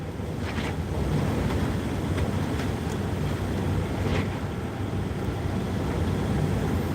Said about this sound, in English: That's the wind, bud. Yeah, I got some freaking wind here.